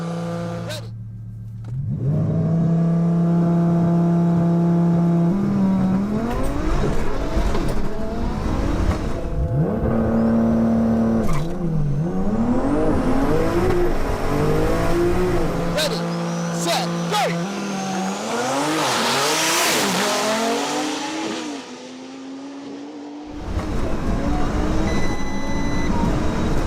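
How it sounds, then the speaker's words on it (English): A Porsche 992 launches hard off the line, the engine revving and climbing through rapid gear changes in loud, rising sweeps, with a whine and possible tire squeal, while voices speak faintly underneath. "the launching on the Porsche 992s is just phenomenal"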